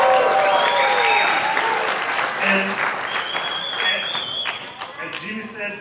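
An audience at a Hot Wheels sneak preview presentation bursts into loud sustained applause with some cheers, thinning out toward the end, while a presenter talks over it.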